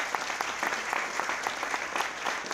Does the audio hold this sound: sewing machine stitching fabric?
no